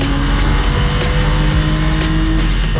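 Porsche Sprint Challenge race cars roar off the starting line together, a loud, dense, sustained engine howl with rising revs and a hint of tire noise, no voices over it.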